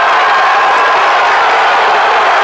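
A home crowd at a strongman event roars and cheers continuously as a competitor lifts a 414-pound weight overhead, a loud, dense wall of voices with no break.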